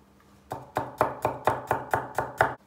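Eight quick, evenly spaced knife chops on a cutting board, close and crisp, as garlic is chopped; no talking.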